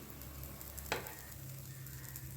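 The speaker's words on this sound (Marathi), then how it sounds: "दोन्ही बाजूने हे व्यवस्थित खमंग शेकून घ्यायचं आहे मीडियम टू लो हीटवरती" A grated potato mixture pan-roasting on medium-low heat gives a quiet, even sizzle close by, with one brief scrape partway through.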